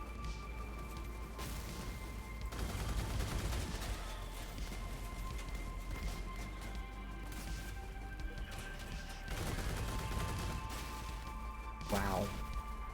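Vehicle weapons firing in the Crossout car-combat video game, a few broadband bursts and crashes over steady engine drone and game music, with one sharp shot near the end.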